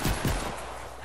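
Pistol gunshots in Fortnite Save the World during a zombie wave: two quick, loud shots close together over a dense, noisy backdrop.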